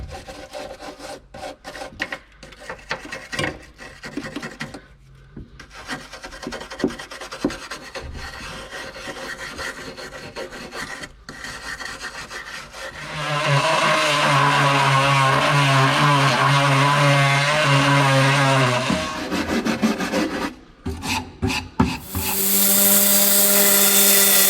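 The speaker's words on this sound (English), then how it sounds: "it's time to get on with the job I absolutely detest, which is the prep and the sanding. It's noisy, it's dirty" Power sanding on the cab of an AEC Routemaster London bus during restoration prep, starting with bursts of rasping and rubbing, then settling into a loud, sustained whining grind with brief pauses, close up and with no talking.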